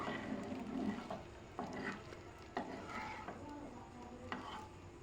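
Pasta being stirred in a pan with soy sauce, salt and chopped chilli: soft scraping and stirring strokes with faint frying and light clinks of a utensil against the pan, quiet and close, with no talking.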